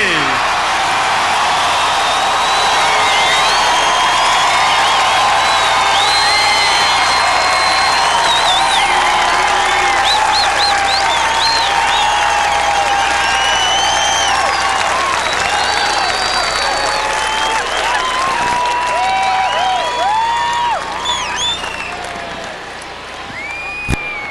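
Big crowd at a Winnipeg Jets hockey event applauding and cheering steadily and loudly, with whoops and whistles over the sustained clapping, tapering slightly near the end.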